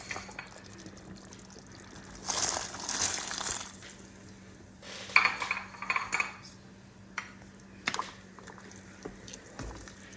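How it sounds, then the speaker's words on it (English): A scattered rattle of white beans tumbling into a pot of boiling tomato soup with beef, in two short bursts, with a little clinking of a utensil afterward. "Now I'm gonna add the beans."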